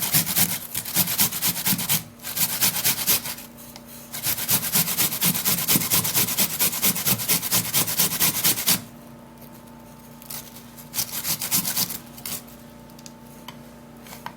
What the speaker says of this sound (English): what we're going to do is to grate the onion